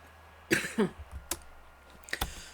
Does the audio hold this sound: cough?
yes